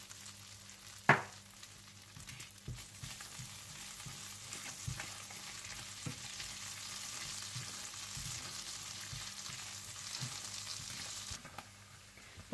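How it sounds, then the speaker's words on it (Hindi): Whole cumin, black peppercorns and chopped garlic frying in melted butter for a dal makhani tempering, a steady soft sizzle with occasional light clinks and stirring sounds, no talking. "जैसे ही मक्खन मेल्ट हो जाए तो आप इसमें साबुत जीरा, गोल मिर्चें और कटा हुआ लहसुन डालकर फ्राई कर लें"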